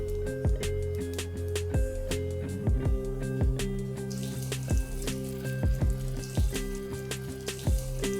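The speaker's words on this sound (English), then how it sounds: "now I'm going to dip them in the gram flour batter and fry" Pakoras frying in gram flour batter in hot oil, a steady close sizzle with crackles running throughout, with intermittent clinks and taps over the frying.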